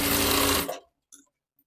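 A sewing machine runs in a steady, dense burst while stitching a size 46 princess-cut blouse, then cuts out abruptly, leaving a few faint clicks and small handling sounds in near silence.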